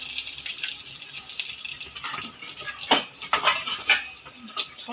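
Chopped garlic stirred in a little oil in a pan, with a soft sizzle and scattered clinks and scrapes of a utensil against the pan, fairly quiet and close.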